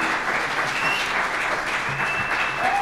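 An audience claps for the band at a concert at Chord Brewing Company. The clapping is dense and continuous, close and loud, with faint whoops mixed in.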